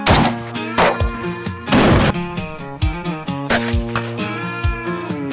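S&W Bodyguard 2.0 pistol firing 380 ACP rounds into ballistic gel at a range, a quick series of loud, sharp nearby shots with ringing echoes between them.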